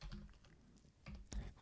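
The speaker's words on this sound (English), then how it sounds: "So I will start typing." Quiet keystrokes on a computer keyboard while code is typed, coming in short irregular bursts with a couple of sharper taps near the end and no talking.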